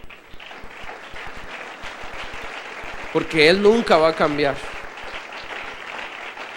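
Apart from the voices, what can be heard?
congregation applause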